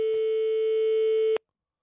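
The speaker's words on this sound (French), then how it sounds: "Ça sonne." One steady telephone ringing tone sounds for about a second and a half as a call is placed to a restaurant, then cuts off abruptly into silence.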